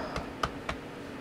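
Three quiet, separate keystrokes on a USB keyboard at a workshop PC during a motherboard swap, soft clicks spaced unevenly over about a second.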